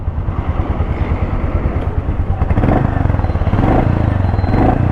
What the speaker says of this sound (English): That's like the Royal Enfield sound, but in idle it's very smooth